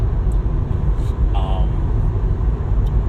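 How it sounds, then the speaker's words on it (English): Steady low rumble of a car engine and road noise from inside a moving vehicle, continuous throughout with a brief faint tone partway through. "the background sounds of the car going"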